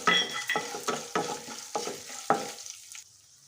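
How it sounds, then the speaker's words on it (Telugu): Dried chillies, curry leaves and crushed garlic sizzle in hot oil for a mint chutney tempering, a close, loud crackling spurt in repeated bursts that fades quickly toward silence. "ఇందులోనే ఓ 2 రిబ్బల కరివేపాకు, ఇందులోకే ఒక 4 లేక 5 ఎల్లిపాయలు అయితే కచ్చపచ్చగా దంచేసేసి వేసేయండి."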